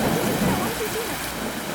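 Heavy rain pours down with rumbling thunder and strong wind in a dramatic film scene, a dense, loud, continuous wash of noise; voices may be faintly mixed underneath.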